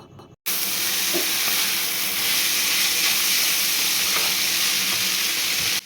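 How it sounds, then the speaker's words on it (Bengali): Chowmein noodles stirred and fried in hot oil in a pan, producing a loud continuous sizzle with faint scraping from the stirring, close and steady after a brief quiet start. "তো এবার চাউমিনটা দিয়ে কিছুক্ষণ নেড়ে নেব।"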